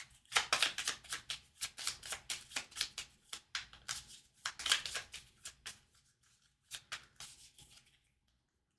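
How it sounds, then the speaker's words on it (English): Playing cards being shuffled at a tabletop Pathfinder game, a quick run of riffling snaps in two rapid bursts followed by a few slower taps, close and fairly quiet, with no talking. "And shuffle in these 3."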